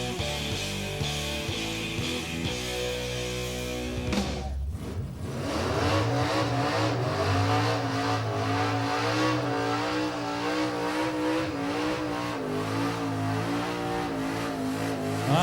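Cars revving hard in a burnout competition at Summernats, a loud continuous roar of engines climbing and holding high revs with screeching tires, close and alone.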